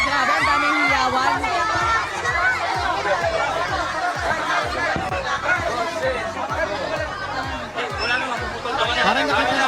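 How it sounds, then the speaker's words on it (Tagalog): A dense crowd in Tondo, Manila chatters and shouts together, a loud continuous roar of many voices with scattered cheers rising above the babble. "ang daming hiyawan"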